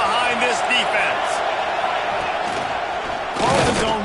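A big stadium crowd roars steadily behind the defense on a key third down at a college football game featuring the Canes, a broad sustained wall of noise that swells near the end, with a commentator talking over it.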